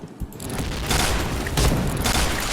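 Dense, sustained gunfire from the shooter game Point Blank, loud and close, with bursts running together across the whole stretch and no pauses.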